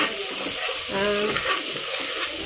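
Tomatoes, green chili and curry leaves stir-fried in a pan for a chicken gravy, a steady close sizzle with scraping stirs, a faint voice in the background.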